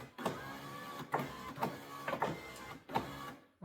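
A Honda NSX power window regulator driving the window up and down, a whirring, grinding motor sound in repeated strokes with short pauses between them, close and clear.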